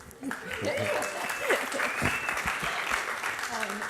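An audience at a university executive lecture breaks into sustained applause, a dense wash of clapping while a voice speaks over it throughout.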